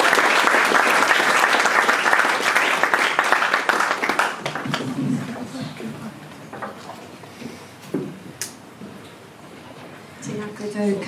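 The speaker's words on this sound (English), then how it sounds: "Please join me in a round of applause" Audience applause fills a room at an innovation election debate, loud and dense at first, then thinning into scattered claps with some voices underneath before swelling again at the end.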